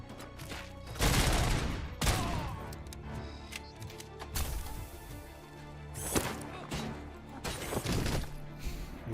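Gunfire bursts from the Robocop video game, with loud clustered volleys around one, two, four and a half, six and eight seconds over a steady backdrop of game sound.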